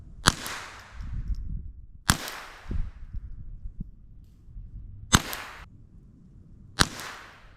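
Four sharp, loud shots from a Ruger 10/22 rifle fitted with an Aimpoint Pro sight, fired outdoors at irregular intervals with a brief ringing decay after each crack.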